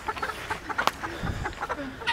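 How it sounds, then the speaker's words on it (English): Hen clucks repeatedly in short, close, choppy bursts with a soft farmyard background. "No, this is a hen."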